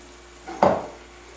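Spinach dropped into a pan of onions, tomatoes and monster mash softening in ghee, a single brief clatter and soft rustling thump over a quiet background, with no talking.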